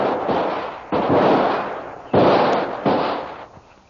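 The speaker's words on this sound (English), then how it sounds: "both the savage and Kolu start shooting at each other." Four heavy gunshots ring out in an exchange of fire during an audio drama, each a loud sharp blast with a long decaying tail, spaced irregularly and heard alone.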